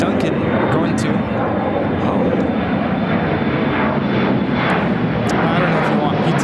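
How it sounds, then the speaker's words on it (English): A Delta Connection Embraer E175 operated by SkyWest roars steadily on takeoff from Chicago O'Hare, a loud, continuous broadband jet-engine rumble that holds at full strength from start to finish. "This is Delta Connection, operated by Skywest Airlines, 4215, taking off to Minneapolis on the E175"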